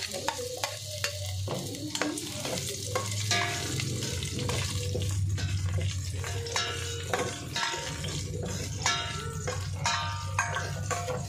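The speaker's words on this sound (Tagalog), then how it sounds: "So, ilagay na natin ang sibuyas." Chopped onions sizzle steadily in a frying pan while being cooking for a corned beef and cabbage dish, with repeated scraping and stirring clicks of a utensil against the pan throughout.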